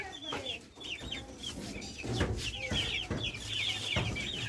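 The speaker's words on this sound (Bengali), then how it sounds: "আজকে আমার এই ফার্মিং মুরগিগুলোর বয়স হচ্ছে 53 দিন" Broiler farm chickens, 53 days old, cluck in a steady overlapping chorus, with repeated short calls standing out close by against a constant low shed hum.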